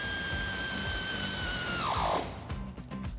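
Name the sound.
power tool with 8mm Allen socket tightening a bolt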